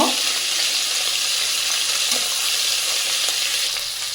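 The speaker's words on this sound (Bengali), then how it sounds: "এবারে এই পাশটাও ভালো করে আমি ভেজে নেব" Fish turned onto its other side fries in hot oil, producing a constant, loud bubbling sizzle with light crackles that eases off slightly at the end, without speech.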